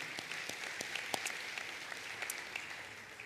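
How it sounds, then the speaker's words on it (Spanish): A church congregation claps steadily and fairly loudly throughout, a dense wash of applause with individual sharper claps standing out. "Le da un aplauso fuerte al Señor."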